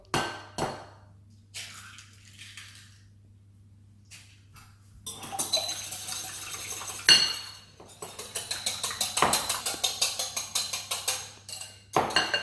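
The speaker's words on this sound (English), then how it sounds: "Now we need to whisk the egg" Egg whisked in a bowl for oaty breakfast biscuits, first scattered clinks and clangs of utensils, then a fast steady run of metal whisk strokes ticking against the bowl, close and crisp.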